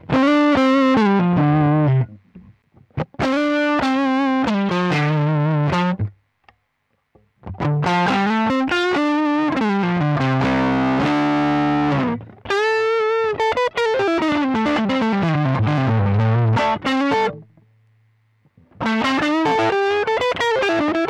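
Electric guitar through a Mooer Two Stones pedal set to Two Rock-style distortion, playing loud driven phrases of bends and chords in bursts separated by short pauses, close and with no voices.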